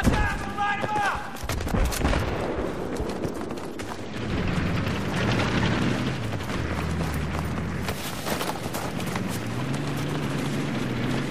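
Gunfire in the video game Battlefield 3 Armored Kill, repeated bursts of shots and booming blasts across a rumbling noisy battle scene, with voices calling out over it.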